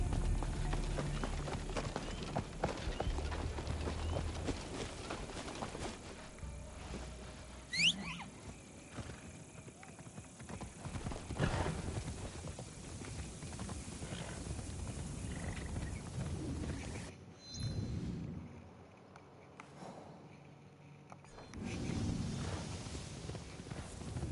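Horse hooves clopping in Assassin's Creed Shadows, a steady run of soft beats under game ambience, with a brief dropout near the end.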